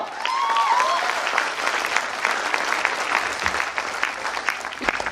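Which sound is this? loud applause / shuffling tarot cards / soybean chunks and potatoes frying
loud applause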